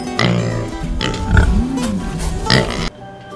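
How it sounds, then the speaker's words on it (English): A pig oinks in a farm pen, several grunting calls spread across a few seconds at moderate loudness with some background noise. "It's a pig."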